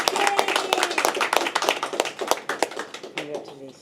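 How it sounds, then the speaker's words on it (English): Brief, close applause from a small group at a coaching awards ceremony, with some hands clapping faster than others, fading toward the end as a voice cuts in. "One more round of applause, please."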